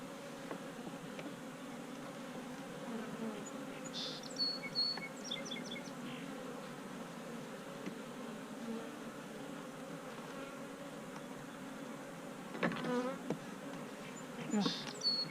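Bees buzz steadily around a backyard beehive being closed up, a continuous faint drone with occasional brief nearer passes and light handling clicks, no talk.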